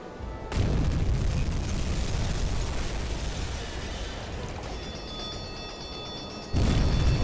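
Torpedo hits explode against a ship in the submarine game UBOAT, a heavy sustained boom and roar that rumbles on for several seconds, then a second loud blast bursts in near the end.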